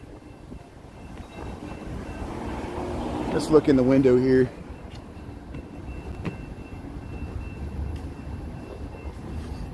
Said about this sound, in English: they're really backing up the train